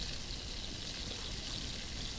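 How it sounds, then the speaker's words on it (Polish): Water boiling in a pot in the survival video game The Last Plague, a steady soft bubbling and hiss that is faint and continuous, with no talk over it. "Teraz tak, gotujemy wodę."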